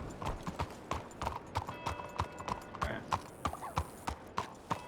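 Horse hooves clip-clop in steady, even strikes inside the RedM video game, close and fairly loud, with a faint whinny near the middle and light background sound throughout.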